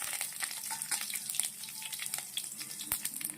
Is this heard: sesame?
yes